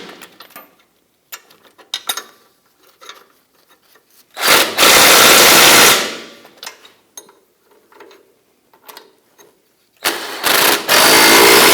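Bolts on the cross member of a 2006-2010 Hummer H3 are tightened, probably with a ratchet or impact tool: faint scattered clicks and handling noises, then two loud bursts of tool whirring, one of them sustained for over a second.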